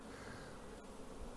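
Honeybees stream out of a hive on a sunny October afternoon, making a dense, continuous buzzing hum at a steady, fairly faint level.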